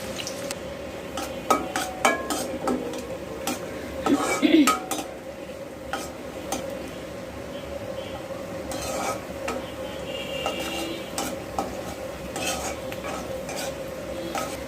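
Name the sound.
onions and green chilies frying in oil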